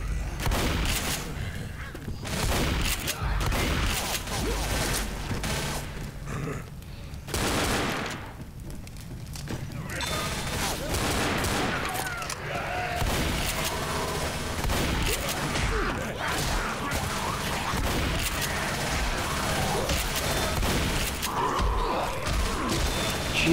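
Shotgun gunfire in the PC video game Left 4 Dead, heavy repeated blasts and chaotic combat noise running continuously and loud throughout, with a faint voice briefly in the mix.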